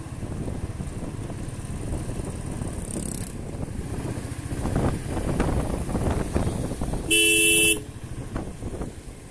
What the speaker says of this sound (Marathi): हॉर्न दिला पाहिजे, कसं चालवतं त्याचं देव जाणे.